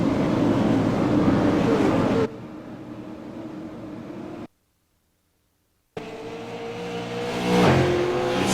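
Super late model race cars droning behind the pace car around the Milwaukee Mile oval, a loud steady engine roar that drops away, cuts to silence, then swells back with a passing rise.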